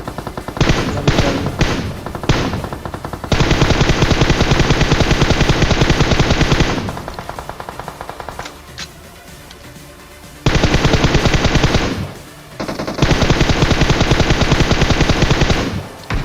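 Loud automatic gunfire in a mobile shooter video game comes in long sustained bursts with short single shots in between. A quieter gap falls midway before heavy firing resumes, close and dominant throughout.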